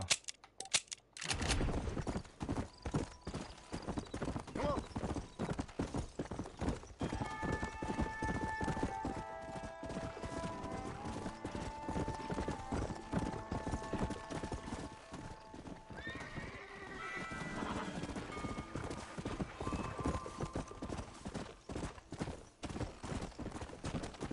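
Horse hooves clip-clop in a fast, steady rhythm in Red Dead Redemption, with occasional neighs and distant gunfire mixed in, continuous and close throughout.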